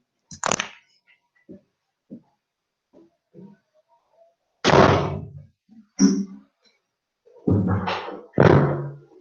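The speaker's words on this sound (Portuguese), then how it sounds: "Pessoal, com licença, eu vou fechar a porta aqui." Someone closes a door in a room used for a lecture, making a series of dull thuds and clunks at irregular intervals, the louder knocks bunched toward the end.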